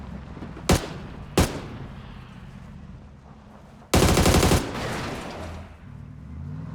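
Gunfire in PUBG: two sharp single shots ring out close together, then a loud rapid burst of automatic fire, with a lingering tail of echo and quieter game ambience afterward.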